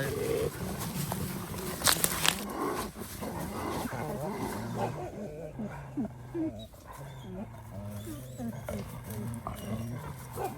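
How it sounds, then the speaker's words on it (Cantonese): A pack of wild dogs barks loudly in a bamboo forest, sharp repeated barks and whimpers overlapping at close range, with people talking and exclaiming over them. "突然一群野狗。"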